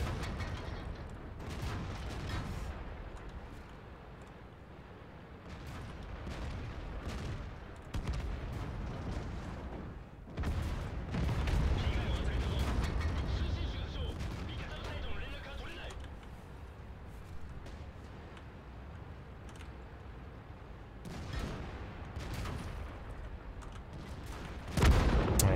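Tank cannon shots and shell impacts boom repeatedly in a World of Tanks battle, with an IS-3 among the tanks, heavy bursts coming and going under continuous game noise and a talking player.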